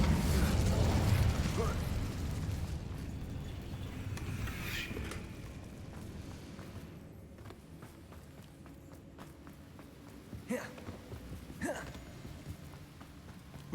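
Incendio fire spell cast in Hogwarts Legacy, a burst of flame with a whooshing pop early on, followed by scattered mechanical clicks and footsteps-like clatter, fairly quiet overall.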